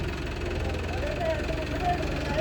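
A steady low tractor engine idle rumbles throughout, with a faint voice murmuring underneath.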